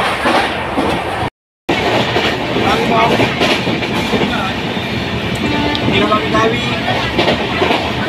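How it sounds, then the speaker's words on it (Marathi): A crowded train travels along the rails, its steady rolling rumble and clickety-clack continuous and close, with voices chattering in the carriage and a short gap of silence early on. "आणि आमचा प्रवास चालू झालेला आहे. ट्रेनमध्ये बसलेलो आहे."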